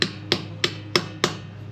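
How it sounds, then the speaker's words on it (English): A hammer strikes a socket fitted over a destroyed wheel nut, five sharp metallic knocks spaced evenly about a third of a second apart, close and loud with no talk. "Let me get the hammer. Let's try and knock on"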